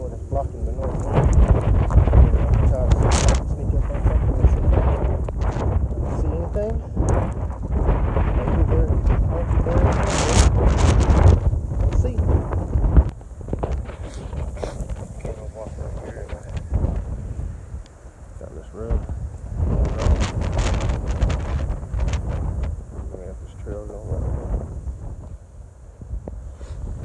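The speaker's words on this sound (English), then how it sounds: "It is pretty windy." Strong gusty wind buffets the microphone outdoors on open public land during a mule deer hunt, roaring in uneven surges throughout, with someone speaking intermittently.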